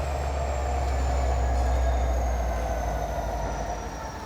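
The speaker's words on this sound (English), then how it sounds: "Y'all see the train right there?" A train rolls past behind trees along a wooded trail, its low heavy rumble steady and fairly close, with faint wheel squeal whining over the top as the sound slowly eases away.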